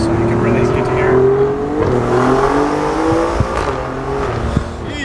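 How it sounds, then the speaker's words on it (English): An Alfa Romeo Giulia Quadrifoglio in race mode with the exhaust opened, its engine droning steadily loud and close with rising and falling harmonic pitch as it accelerates, while voices talk over it inside the car. "race mode opens up the exhaust too, so you can really get to hear it"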